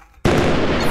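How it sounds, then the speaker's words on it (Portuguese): Sudden loud explosion in the Roblox game Build a Boat, bursting in abruptly after a quiet moment and sustaining a dense, rumbling roar to the end. "eu ouvi um barulho de explosão nuclear"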